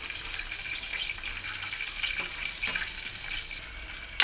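Cluster beans (guvar) fry in hot oil over a high flame with a steady, close crackling sizzle and small pops, alone without talk.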